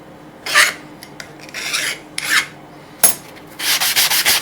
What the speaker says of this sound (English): you just run a file lightly along